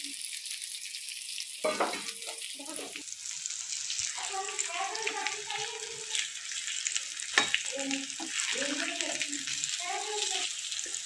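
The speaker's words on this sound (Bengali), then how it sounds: "এক সাইড একটু ভাজা হয়ে গেলে আর এক সাইড আবার এইভাবে করে নেবে" Boiled taro pieces fry in hot white oil, a steady crackling sizzle running throughout while a voice talks over it at intervals.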